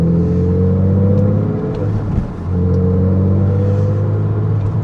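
Porsche 987.1 Cayman S engine heard from outside, a loud steady rumbling drone with a brief dip in revs midway before settling back to a constant close-up note.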